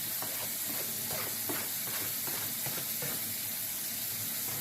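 Vegetables hit a hot pan for a quick cheesy tater tot and egg breakfast, giving a steady, close sizzle with scraping stirs layered throughout and no voices.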